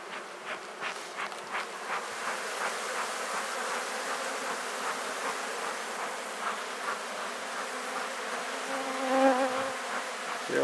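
A dense swarm of honeybees at a hive, driven off by beekeeper's smoke, hums in a steady, continuous drone with a faint rising whine near the end, close and unbroken, with no voices.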